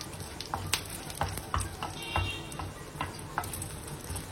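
A ground spice paste for sambar fries in a pan, giving a continuous soft sizzle broken by sharp ticks and occasional scrapes of stirring, close and moderately quiet, with no one talking.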